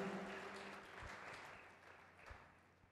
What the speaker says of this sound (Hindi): ताली बजाकर धन्यवाद करो परमेश्वर का